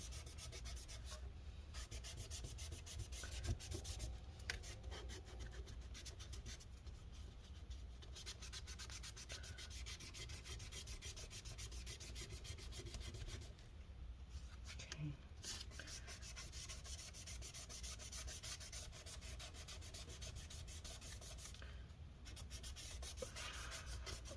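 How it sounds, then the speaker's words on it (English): A cloth wiping adhesive residue off a metal part of a Lenovo Yoga laptop, a quiet continuous rubbing and scrubbing that goes on steadily with small pauses, close and faint. "just wipe it up a bit"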